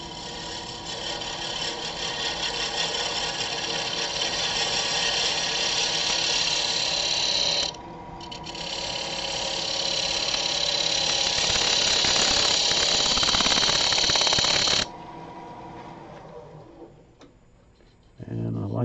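Wood turning on a lathe with a 3/8 inch spindle gouge shaping a cross grain box: a steady, loud scraping whir that drops out briefly near eight seconds, resumes, then thins to a quieter rattle for the final few seconds.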